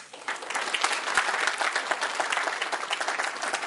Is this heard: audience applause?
yes